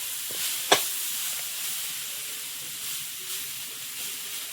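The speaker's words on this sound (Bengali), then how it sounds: "এটা সব রকম সবজি দিয়ে চিংড়ি দিয়ে একটা ভাজা হচ্ছে" Mixed vegetables and shrimp frying in a pan give a soft, steady hiss of sizzling oil with one sharp clink near the start, heard alone at moderate distance.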